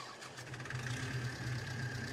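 A tractor engine in Farming Simulator 22 runs as a steady mid-pitched drone with a low hum, even and moderately loud with no voices.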